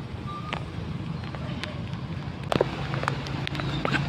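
Rain patters steadily on a second-floor rooftop garden planted with pechay during a heavy storm, a dense broadband hiss with scattered sharper drops and low rumble, slightly louder in the last second and a half.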